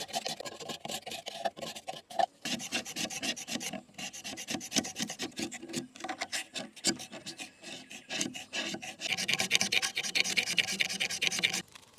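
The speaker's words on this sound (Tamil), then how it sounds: "இப்போ அதே போல் இதில் நம்ம அந்த தெர்மோகோல்லாம் அப்படியே கட் பண்ணி எடுத்துடலாம்." A knife saws and scrapes through thermocol sheet while a table is made at home, a continuous rough rasping cut with rapid strokes, close and fairly loud, with no talk.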